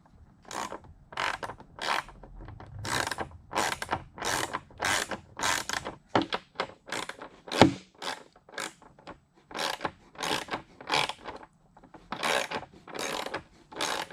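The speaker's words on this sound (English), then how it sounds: "go ahead and start tightening these locking nuts down" A hand ratchet tightening locking nuts on a Harley-Davidson tour pack luggage rack, with many short bursts of rapid pawl clicking in a steady back-and-forth rhythm, close and clear, with brief pauses between strokes.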